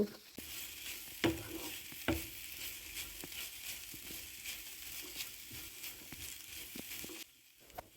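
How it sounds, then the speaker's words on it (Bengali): Beaten eggs with cabbage and a little salt frying in a pan for cabbage fried rice: soft continuous sizzle under repeated scraping and tapping stir strokes, a few louder knocks, then the sound drops away at the end, no talk. "এখন সামান্য লবণ দিয়ে ভালো করে নেড়ে চেড়ে রান্না করে নেব"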